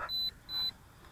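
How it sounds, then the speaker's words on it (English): A Holystone HS360D drone controller gives two clear, high electronic beeps while pairing with the aircraft, each lasting about a quarter second and separated by a short gap, near and distinct over faint background noise. "And it's going to start beeping because they're connecting."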